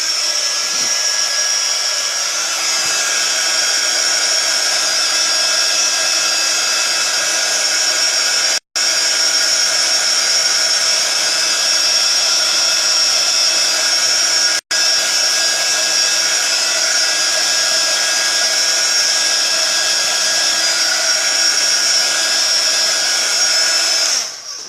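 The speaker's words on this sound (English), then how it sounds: "we're just going to dry it off for a minute using the heat gun" A heat gun blows continuously up close while drying ink on paper, a loud steady whirring hiss that cuts out twice for an instant.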